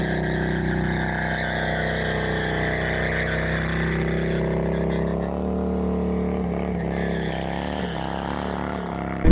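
Harley-Davidson Road Glide motorcycle engine rumbling steadily and loud while riding, with a brief change in tone as it rolls over a bump partway through.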